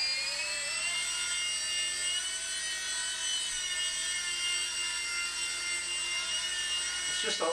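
An mSR micro RC helicopter hovers and spins nearby, its small rotor and motor giving a steady high-pitched whine that holds throughout, with a faint rustle near the end.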